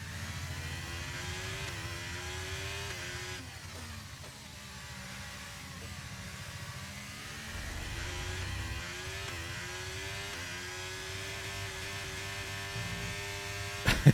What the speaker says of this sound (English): You can really hear the car playing up now